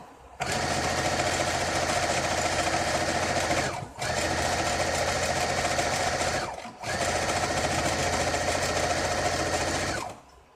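A sewing machine runs a seam along the top of a standard-size pillowcase: three long, loud, steady bursts of rapid stitching, each broken off by a brief pause.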